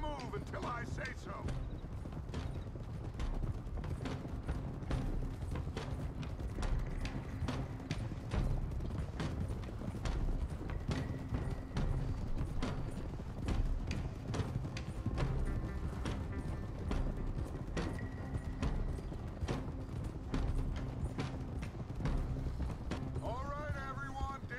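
Horse hooves clip-clop steadily beneath riding in Red Dead Redemption 2, a continuous rhythmic patter of several mounts with creaks and game ambience, with talk heard over it.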